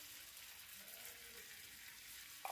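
Cumin, red chillies and asafoetida sizzle in hot butter as a tempering for saag, a steady soft crackling hiss close by with no talk.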